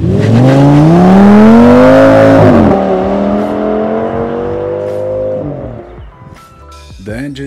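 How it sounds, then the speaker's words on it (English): Audi S8 with a 5.2-liter V10 revving loudly up and then holding a steady high pitch before easing off, close and continuous, with a few brief knocks near the end. "Audi S8 V10. Before I tell you which car has the same engine, hear this out"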